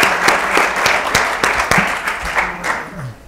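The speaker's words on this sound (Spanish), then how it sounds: "doy un aplauso." An audience applauds at a Spanish-language customer experience talk, a dense steady patter of many hands clapping for a few seconds, fairly loud and close, with no speech over it.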